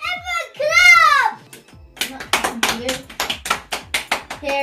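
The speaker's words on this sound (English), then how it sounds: "Everyone clap!" Children applaud the winner of an ice cream challenge. A child's excited vocalising comes first, then a burst of quick, rhythmic clapping follows, close and fairly loud.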